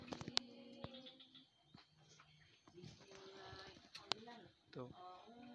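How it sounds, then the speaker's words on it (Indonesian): Chirps and coos from a cicaro bird, a tame caged bird, repeat in short bursts at close range, with sharp clicks and a speaking voice between the calls. "Tuh burung cicaro."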